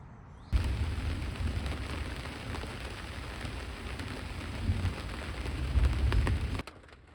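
Steady rain falls at dusk in the Alps, a broad dense wash that runs for several seconds, heavier and rumbling low toward the end before stopping abruptly.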